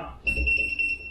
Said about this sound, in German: Und es piepst.